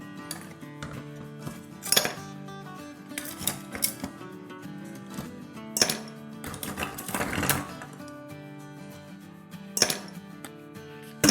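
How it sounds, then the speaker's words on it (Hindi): Lots of ice cubes tumble into a glass of pink lemonade, giving a run of clattering clinks and knocks that come in several close bursts, loud and near, with no talk. "सबसे पहले ढेर सारा बर्फ डालेंगे।"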